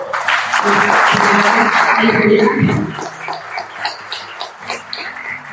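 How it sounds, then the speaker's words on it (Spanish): An audience at a folklore talk in Ibagué applauds loudly for about three seconds, with voices mixed into the clapping, before the applause fades to scattered murmurs and movement. "démosle un aplauso, por favor"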